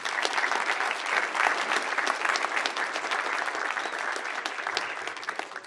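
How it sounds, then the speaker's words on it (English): Steady applause from an audience at a university alumni event, thanking the organizers, a dense continuous patter of many hands at even loudness throughout with no speech over it. "So a round of applause for those individuals."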